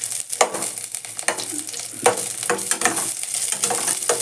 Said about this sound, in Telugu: ఒక స్పూన్ జీలకర్ర వేసేసుకోండి మంచిగా.